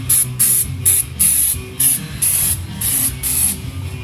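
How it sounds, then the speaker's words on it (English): Bed liner coating sprays in short bursts onto repaired ATV plastic, about eight loud hissing blasts of a second or less separated by brief pauses. "I love this bed liner spray."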